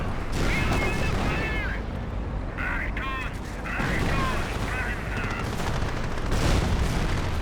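A Panther tank fires during a Company of Heroes battle, with booms and gunfire rolling under steady battlefield noise while a commentator talks over the action.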